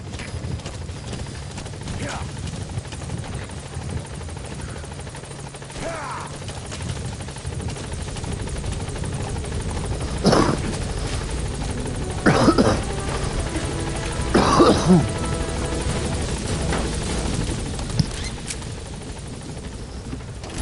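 Pequod helicopter arriving at a landing zone in Metal Gear Solid V: The Phantom Pain, a steady rotor drone throughout, with several brief bursts of louder noise over it and a voice speaking at times.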